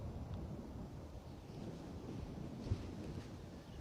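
Gusty wind at Bristol Airport buffets the microphone as a low, rumbling rush that rises and falls, with one brief thump and no talk.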